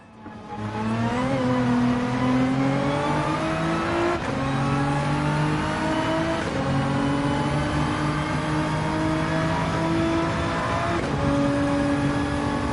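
Race car engine in Gran Turismo 7, loud and continuous for the whole stretch, rising and falling in pitch as it revs up through the gears with short drops at each shift.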